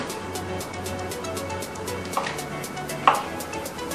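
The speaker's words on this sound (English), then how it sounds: "We'll cut up those mushrooms." Kitchen knife chopping mushrooms on a board during an outdoor catch-and-cook meal, a few soft irregular cuts with two sharper knocks standing out, faint against a steady background.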